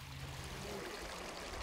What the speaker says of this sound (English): The orange water coming out of the ground is highly acidic and steeped with toxic heavy metals